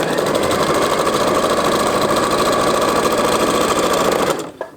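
A sewing machine chain piecing quilt fabric runs in one continuous fast, loud, close whirring stitch before stopping abruptly near the end.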